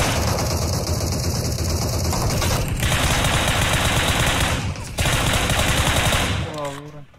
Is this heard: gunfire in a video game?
yes